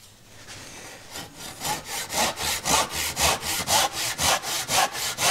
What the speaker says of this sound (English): I'm using a crosscut saw.